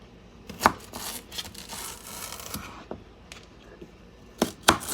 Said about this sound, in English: Then I'm going to cut the celery down the middle.